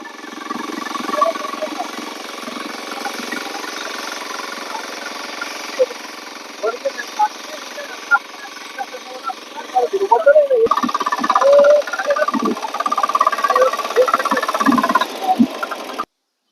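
A small 9 hp power weeder engine runs with a steady rattling drone, rising in loudness partway through, while people talk over it.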